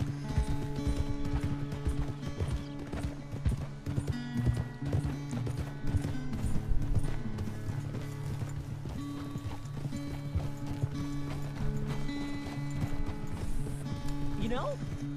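Steady clip-clop of horse hooves in Red Dead Redemption 2 trots along at an even pace, with background music and a voice speaking now and then.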